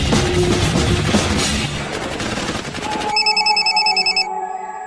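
An animated scene with loud clattering, gunfire-like action sound that gives way to an electronic telephone ring as a call goes out to the boss, with repeated tones that then stop.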